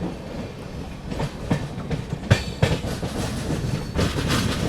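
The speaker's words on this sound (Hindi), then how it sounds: "अपनी ट्रेन जो है new Cooch Behar junction skip करने जा रही है।" Poorvottar Sampark Kranti passenger train running on rails near New Cooch Behar Junction, heard from on board with steady rumble and rhythmic clickety-clack of wheels over rail joints, a few sharper knocks, no voices.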